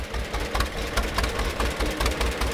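A vintage John Deere GP tractor engine runs close by at an auction, a steady, rhythmic low chugging with a knocking pulse and no talk over it.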